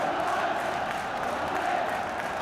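A Spurs football crowd in a 1977 home match against Sunderland roars in a broad, sustained wash of cheering from a distant stadium.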